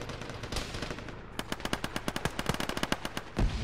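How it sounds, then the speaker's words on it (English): Automatic gunfire in the Arma military game crackles in rapid bursts of sharp, closely spaced shots, starting with a few scattered reports and then building into a fast, loud string of rounds. "The hell is shooting at us and where from?"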